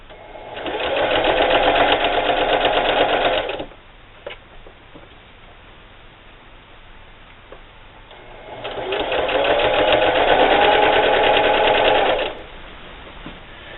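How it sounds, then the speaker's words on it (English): A sewing machine runs a straight stitch at zero stitch width while making a pencil pouch, two steady mechanical bursts of rapid needle chatter separated by a quiet pause with faint clicks. "Now you just want to sew a straight stitch"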